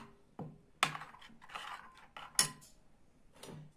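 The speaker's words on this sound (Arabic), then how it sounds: "نخلط هادشي الطحين مزيان" Flour batter for colorful baghrir being mixed in a bowl, intermittent scraping and clinking strokes of a utensil against the bowl, close and fairly quiet with pauses between strokes.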